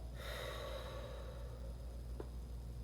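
Choir members breathe in and out together, a faint, soft airy exhale drawn out over a couple of seconds, followed by a short sharp intake, with no talking.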